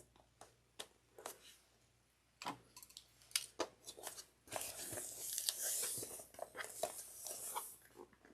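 Plastic sewing clips snapping onto the top and bottom edges of tote bag fabric to keep them aligned, a series of sharp irregular clicks and rustles close by, with fabric handling noise growing denser partway through.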